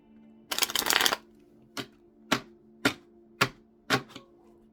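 A deck of tarot cards is shuffled close by: one long riffling burst of about half a second, then five crisp separate snaps as single cards are set down, all in a quiet room with no talk.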